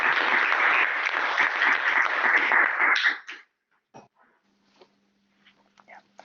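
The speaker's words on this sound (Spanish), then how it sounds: "un aplauso para Andrés" Audience applause after a philosophy colloquium, a steady roll of clapping for about three seconds that stops abruptly, followed by quiet room sounds and brief voices.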